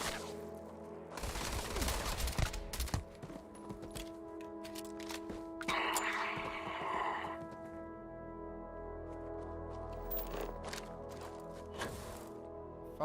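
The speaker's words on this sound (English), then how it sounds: "Oh, he's just shooting me." An enemy fires repeatedly at the player in the video game Starfield, with several bursts of shots over ongoing game sounds and music, loudest early on and recurring later.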